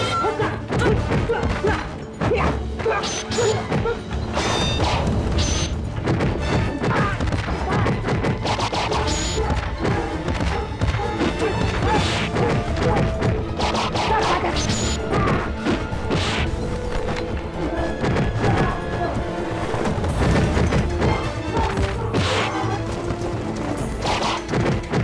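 Bombs thrown during a martial arts drama fight burst in loud crashes, thuds and booms, packed densely together without pause across a busy, continuous action soundtrack.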